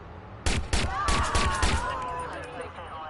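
Gunshots in Watch Dogs, a quick cluster of sharp shots under a voice talking, followed by fading echoing tails and lighter clatter.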